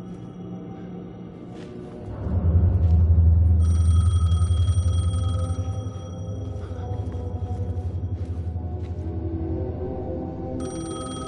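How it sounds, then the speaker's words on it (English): An old-style telephone rings repeatedly in the video game Alan Wake 2, with steady bell tones over a deep rumbling ambient drone and low music, and no speech. "Phone was ringing."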